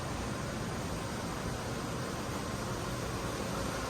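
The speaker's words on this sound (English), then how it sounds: "Still got those ACs humming." Steady broadband hum from the air conditioners on a 2022 Riverstone 39RBFL fifth-wheel RV, a constant even wash of fan and compressor noise with no talking over it.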